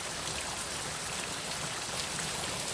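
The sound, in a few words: rain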